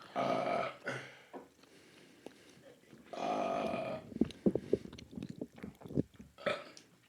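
Two long, loud belches from close by, with a burst of clicks and smacking sounds between them and a brief vocal sound at the end.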